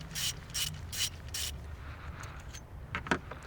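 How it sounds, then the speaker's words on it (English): Ratchet wrench undoing the coil pack bolt on the third cylinder of an Abarth 500 engine with a misfire: four rapid clicking bursts in the first second and a half, then fainter scattered clicks, close up. "So I'll undo the bolt on the 3rd coil pack, this being the one that we know is the problematic cylinder."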